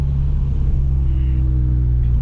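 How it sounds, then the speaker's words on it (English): A tuned VW Golf GTI Mk7 rumbles steadily and loudly up close, its exhaust drone continuous through the short stretch with no distinct pops standing out. "Pops on downshifts now."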